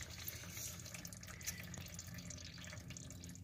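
Transmission fluid pours steadily from the leaking radiator of a 2002 Jeep Liberty 3.7 V6 into a drain pan, a continuous close trickling and splashing that runs the whole time with no talk.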